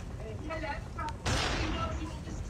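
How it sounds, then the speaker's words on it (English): A flashbang grenade going off in the mobile shooter game Call of Duty Mobile: a sudden loud burst with a bright ringing hiss that lingers after, following quieter game sounds and a person talking. "Oh, that's a flashbang."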